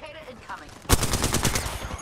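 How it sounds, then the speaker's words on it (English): Rapid automatic gunfire in the battle royale game Apex Legends erupts after a quiet opening, a dense burst of close shots lasting about a second with faint game sounds before it. "They're just all like shooting at me."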